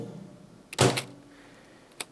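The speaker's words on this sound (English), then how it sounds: "silverware drawer closing. And it's pitched down." A silverware drawer closes in a single pitched-down thud with a short rattling tail, then a lighter knock follows a second later, heard close and alone.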